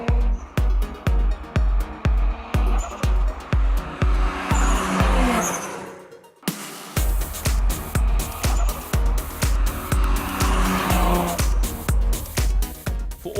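Nissan Skyline R34 GTT fitted with a T4 turbo, loud and close, its engine note chopped into a fast, steady run of sharp pulses, briefly dropping away near the middle before the pulsing resumes.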